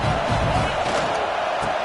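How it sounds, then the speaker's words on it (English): Roaring stadium crowd at a football game, a steady wash of cheering and shouting from a large audience, loud and continuous throughout. "This crowd trying to make life miserable for this offense."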